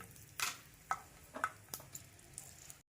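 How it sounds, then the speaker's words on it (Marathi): Garlic and cumin seeds frying in hot peanut oil for a peanut chutney, with a few soft, scattered crackles and the light scrape of stirring against a quiet background, and no talk. "हे तेलावरती आपल्याला जिरं आणि लसूण छान परतून घे"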